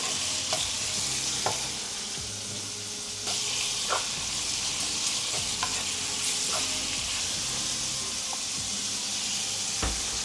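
Meat for a Filipino munggo (mung bean) dish sizzles steadily in a pan, with a loud continuous frying hiss and periodic scraping clicks from stirring.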